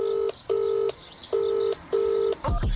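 Four even touch-tone beeps sound over a phone call, keying in a code to remotely start a Scirocco fitted with a car security system, followed by a brief crackle at the end.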